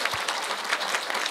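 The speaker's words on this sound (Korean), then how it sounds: "우리 청년에게 먼저 박수 한번 주셨으면 정말 좋겠습니다" Brief applause from an audience at a community discussion forum on multicultural family life, a soft, even patter of many hands lasting about a second.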